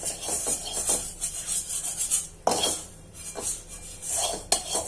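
A wooden spoon scrapes and knocks against a kadhai while stirring millet dough balls for bati, in close, uneven rubbing strokes with a few sharp clicks.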